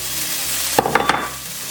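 Ham sizzling as it goes into a large pan on medium heat, a short burst of crackling with a few sharp pan knocks over a steady hiss.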